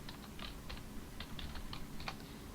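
Light typing on a computer keyboard, a string of soft, irregular key taps heard faintly over a steady background hiss, with no speech.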